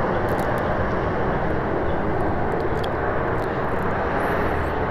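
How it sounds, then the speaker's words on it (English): A fixed-wing airplane flies in toward Palm Springs over a mobile home park neighborhood, its engine a loud, steady roar that fills the whole stretch without pause and with no voices. "This is winter, so we do have a lot of planes coming in."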